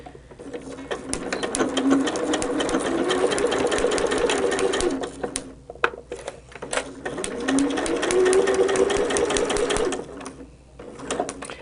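A sewing machine stitches quilt block seams in two sustained runs with a brief pause between them, a close, steady mechanical whir and rattle, with no talking.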